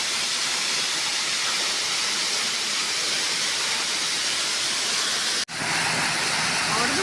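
A waterfall pours down just a couple of arm's lengths away, making a loud, steady roar of rushing water. The sound cuts out for a moment near the end, then resumes.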